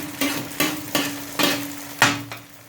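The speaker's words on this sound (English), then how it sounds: "Okay, so we let it fry. Let's get it crispy." A Teochew oyster omelette frying in a pan gives a series of about five short sizzling bursts with scraping in between, close and fairly loud, with no talking.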